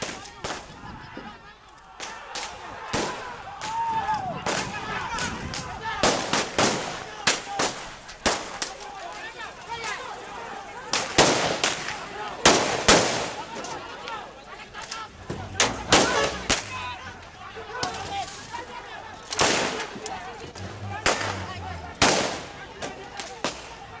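Repeated sharp gunshot cracks from police firing into the air go off in irregular bursts amid a noisy protest crowd in Papua, Indonesia, some shots close and loud, others further off.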